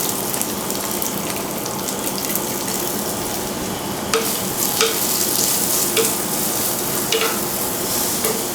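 Chopped onion with slit green chillies and a pinch of salt sautés in a pan for Kerala okra curry, a loud, continuous sizzle up close, punctuated by a few quick scraping stirs of a spoon.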